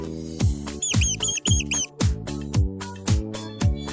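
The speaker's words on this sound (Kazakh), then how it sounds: "Егеуқұйрық." A rat squeaks in a quick burst of thin, high chirps in the middle of the clip, set against background music with a steady thumping beat.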